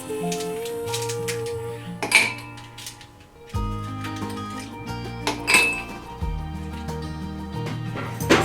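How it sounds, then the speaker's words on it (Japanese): Iced tea poured into a glass with ice cubes, giving bright glassy clinks and chinks over a steady pour, with two sharper clinking accents standing out; close and clear, with no talking. "氷の入ったグラスにお茶を注ぐとチリンという音が体温よりも先に心の温度を下げてくれます"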